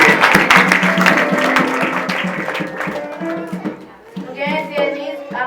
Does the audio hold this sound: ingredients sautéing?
no